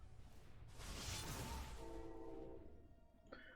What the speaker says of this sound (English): We got a train coming too